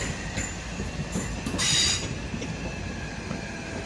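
A Class 465 electric multiple unit pulls into Dartford station on a Kent suburban line. Steady rolling rumble and wheel noise, with a brief squeal of wheels or brakes partway through, heard fairly close on the platform.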